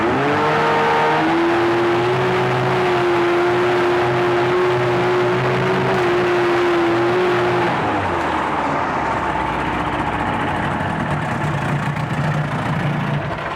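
A 1983 Evinrude 35hp two-stroke manual-start tiller outboard motor running steadily nearby with a loud buzzing drone, then dropping in pitch and settling into a rougher, lower idle.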